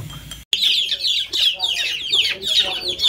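Young chicks, about 21 days old, held for eye-drop BCRDV vaccination give a steady run of high, close clucks and peeps that keep up continuously after a brief gap.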